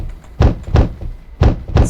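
Heavy thumps land on a door, struck by a creature in a video game, four loud blows in two pairs with a brief gap between them.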